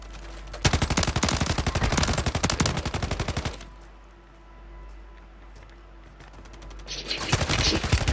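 Rapid automatic gunfire in Call of Duty, with dense loud bursts of fire, a quieter pause in the middle, then another burst near the end, and no talk over it.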